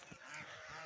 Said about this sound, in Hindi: और इधर बतखें हैं, इन्हें पानी मिल जाए तो इनकी ईद है।